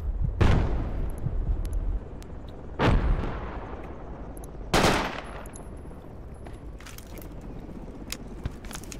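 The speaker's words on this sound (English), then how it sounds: "Post is getting bombarded." Artillery shells land during a Project Reality battle around an oil refinery: three heavy, booming blasts spaced a couple of seconds apart, each trailing off over steady rumbling battlefield noise and scattered distant gunfire.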